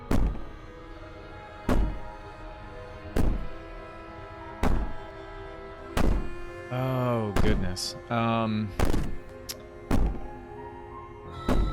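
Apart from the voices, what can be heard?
banging on the wall in the video game Slay the Princess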